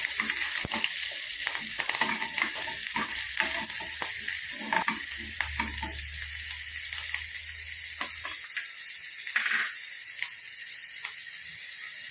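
Curry leaves frying with green grapes in a pan for a Kerala pachadi, a steady close sizzle broken by repeated spoon scrapes and stirring taps throughout.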